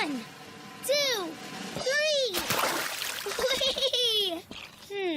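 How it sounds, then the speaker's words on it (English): A cartoon splash from jumping into a puddle bursts out briefly amid excited, sing-song children's voices and cheering that dominate the moment. "Don't you want to jump in a puddle? You can make a big splash!"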